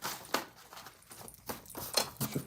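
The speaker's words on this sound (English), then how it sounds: "I'm going to shuffle a few more times here." Tarot cards shuffled by hand in quiet bursts, several soft riffling swishes spaced about half a second apart, close and faint with no talking.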